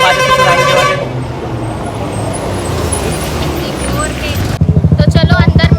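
A vehicle horn toots at a wedding gathering as a car arrives, a loud harmonic honk up front, then rumbling crowd and traffic noise, ending in rapid pulsing beeps.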